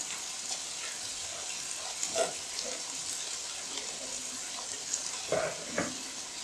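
Ginger-garlic paste frying with chopped coriander and mint in a pan for aloo matar pulao, a steady soft sizzle with a few stirring scrapes and clinks near the end.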